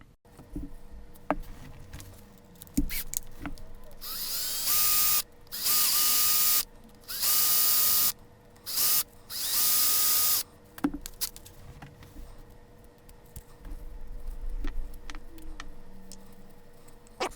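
A power tool removes the differential bolts on an Axial SCX10 II RC crawler in several loud, close whirring bursts with short pauses between them, followed by quieter clicks and handling noises.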